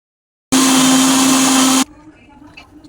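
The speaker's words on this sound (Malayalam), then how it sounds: "അത് അരിഞ്ഞ് ജാറിലിട്ട് കുറച്ച് പഞ്ചസാരയും ചേർത്ത് നല്ല രീതിയിലൊന്ന് അടിച്ചെടുക്കാം" A mixer jar whirs loudly as it blends chopped mango with sugar, a steady high-pitched motor drone lasting over a second before cutting off abruptly into quiet background.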